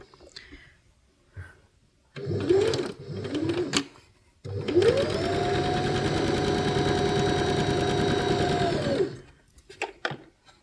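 A home sewing machine runs straight stitches on fabric for a reusable coffee or tea bag. Two short bursts come first, then a steady whirring run lasting about five seconds, close and clear.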